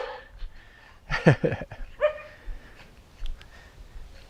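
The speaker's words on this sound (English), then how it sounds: "Well, there's a lot of dogs here. Oh, there's a big one." Dogs bark and yip in a short cluster of sharp calls, fairly close, followed by scattered quieter whimpers and yelps against a low background.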